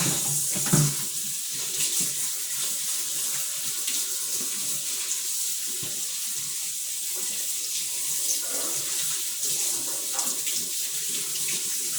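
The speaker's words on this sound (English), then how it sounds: "So I'm washing out this fish." Tap water runs steadily into a kitchen sink as fish is washed under it, a continuous close splashing stream with no talking.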